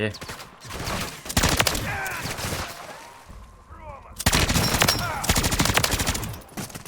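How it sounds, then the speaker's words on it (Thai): Gunfire rings out in a Call of Duty zombies-mode game, with loud, dense volleys of shots, a quieter gap of scattered effects, then another heavy burst of fire. "มีสไนด้วยนะ ได้เสียงเหมือนสไนเปอร์ด้วย ยิงมาด้วยนะครับ"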